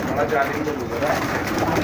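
A nafta pigeon coos continuously with soft, repeated low calls amid busy background noise, with faint voices murmuring underneath.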